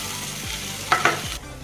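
Chilli powder, coriander powder and garam masala fry in hot oil in a pan for an Andhra-style fish curry, with a close sizzle and a couple of sharp scrapes of a spoon stirring before the sizzle suddenly drops away.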